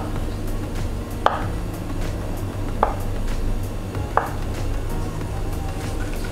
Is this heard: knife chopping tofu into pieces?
yes